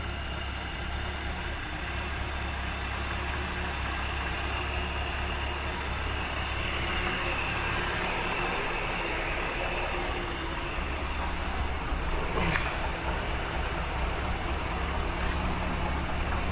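An old vehicle engine that sat for over thirty years idles after being revved, its carburetor struggling; a steady, low, unbroken rumble runs throughout without any voices.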